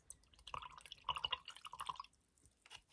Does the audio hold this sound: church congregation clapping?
no